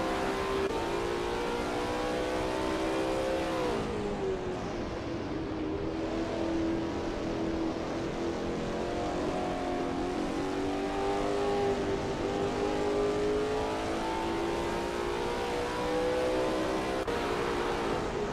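A Lola T70 MkII Spyder race car engine at Spa in a racing sim drones steadily at high revs for a long stretch, pitch dipping and climbing through gear changes and corners.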